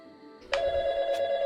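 A telephone rings in the video game YIIK, an electronic ring that starts abruptly and holds a steady bright tone with a short higher chirp partway through, clear and alone.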